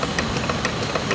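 Triple-transferator Stirling engine powering a canoe, running with a steady, soft rhythmic knocking and chuffing pulse, close and continuous over a short stretch with no talk.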